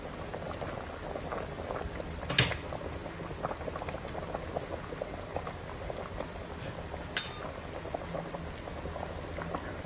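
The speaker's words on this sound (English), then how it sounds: "Here is some periwinkles. Cover to boil for 2 minutes again." Achara soup with periwinkles bubbling in a covered pot, a steady soft simmering patter with two sharp clinks partway through, no talking.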